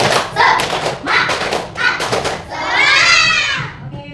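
A class of children claps a rhythmic 'tepuk semangat' routine in short bursts of clapping, then the group shouts together in unison.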